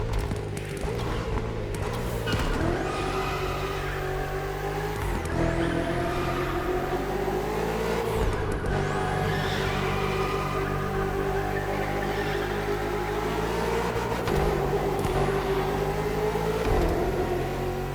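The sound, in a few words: BMW M5 CS engine revving during an all-wheel drift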